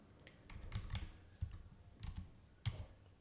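Typing on a computer keyboard, a quiet, close run of light clicks in small irregular bursts, with no voices.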